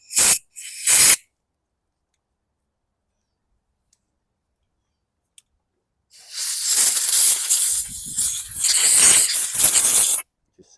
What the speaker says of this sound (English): air blasting in 3 different sections here at where the cartridge was